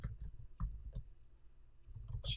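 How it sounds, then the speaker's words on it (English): Quiet computer keyboard typing, a quick run of soft separate key clicks, close and alone. "And if I just type"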